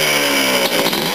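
Small engine running steadily at high revs during its break-in period, a loud, continuous buzzing drone with a slight rise and dip in pitch toward the end.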